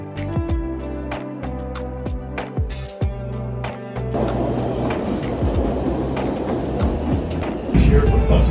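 A commuter train in Boston rumbles and rattles on its rails, first with rhythmic clicking wheel thumps, then a dense steady roar of the moving car, loud and close with no voices.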